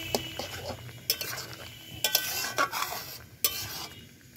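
A spoon scrapes and clanks against a pan as mixed vegetables for Bengali shukto, with mustard and cumin paste, are stirred and sautéed, sharp metallic clinks at irregular intervals over a faint low sizzle.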